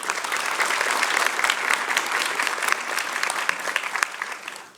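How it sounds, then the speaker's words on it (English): An audience at a school board meeting claps steadily for honorees, dense and sustained applause that fades toward the end. "please, another round of applause for them"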